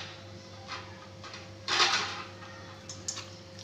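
A lid goes onto a pot of mutton kosha: a faint metallic clink, then a louder clatter as it settles, followed by a few light taps in a quiet kitchen.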